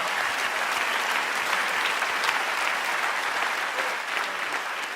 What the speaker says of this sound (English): I really wish you clap your hands and give God praise